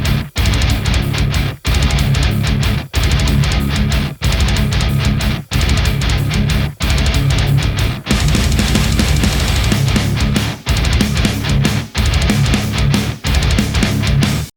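Full song played through the Toneforge Disruptor guitar plugin: thick, heavily distorted guitar riffing over drums, loud and wall-like, broken into sections by several short, sharp stops before a final cutoff.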